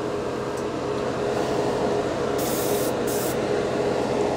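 Paasche H series airbrush spraying thinner, a steady continuous hiss close by that holds evenly throughout, with brief brighter bursts of spray partway through.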